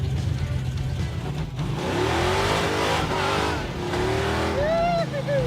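A 1975 AMC Gremlin's engine revs at a stop sign while the line lock holds the car, the motor rising and falling loudly up close as people talk over it inside the car.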